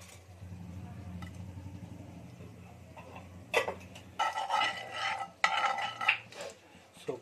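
Whole spices, including cloves, are stirred in a pan on low flame. A faint background rumble gives way to sharp utensil clinks and scraping bursts against the pan.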